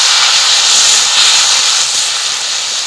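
Chopped tomatoes hit a frying spice paste in a pan, giving off a loud, steady sizzle with a broad hiss that holds without a break.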